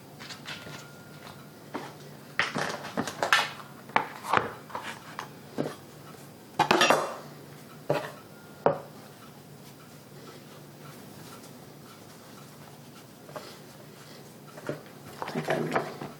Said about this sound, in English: Make a couple nice slices just for something a little bit different